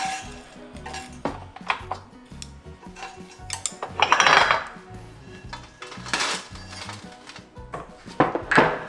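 Stir-fried dried squid strips being served onto a dish, with several clinks and scrapes of a utensil against a pan and plate in an irregular series, close and fairly loud, with no talking.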